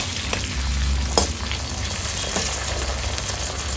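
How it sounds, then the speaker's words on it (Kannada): Sweet corn kernels frying in hot oil for masala corn chaat, a continuous close crackling sizzle with a few sharper pops and light stirring scrapes, no voices. "ಕಾರ್ನ್ ಹಾಕ್ಕೊಂಡು ಒಂದು 2 ನಿಮಿಷ ಫ್ರೈ ಮಾಡಿಕೊಂಡ್ರೆ ಆಯಿತು"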